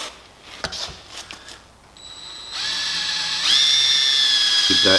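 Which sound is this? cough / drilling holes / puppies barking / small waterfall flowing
drilling holes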